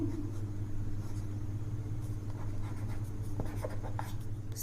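A chemical reaction being written out, with soft scratchy pen or chalk strokes in short bursts over a constant low hum of background noise.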